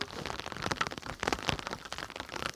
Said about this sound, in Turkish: Şu anda güzel bir yağmur başladı.